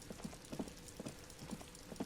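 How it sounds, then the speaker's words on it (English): Rain falls over the city of Revachol in the Disco Elysium video game, a faint, steady hiss broken by soft, regular low taps and patters repeating every half second or so. "All around you, rain falls on the great city of Revachol."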